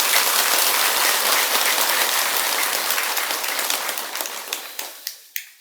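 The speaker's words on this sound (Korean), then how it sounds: "큰 스님들, 중진 스님께 박수 한번 보내주시기 바랍니다" Applause from a temple audience at a Korean Buddhist ceremony honouring senior monks, dense clapping that thins out toward the end into a few last isolated claps.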